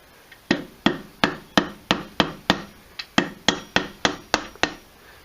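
Sharp metallic taps of a hammer seating a part into a trike springer front end, about fifteen evenly spaced strikes, close and clear with no talking.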